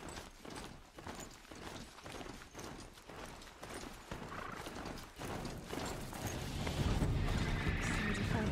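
A horse in the video game Horizon Zero Dawn gallops with steady rhythmic hoofbeats and gives a neigh, heard at moderate level with game ambience building toward the end.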